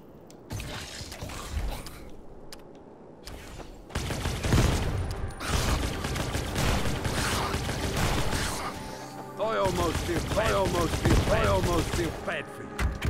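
Venom rifle fire in a video game comes in loud bursts of rapid shots, broken by brief pauses, with a faint voice talking underneath.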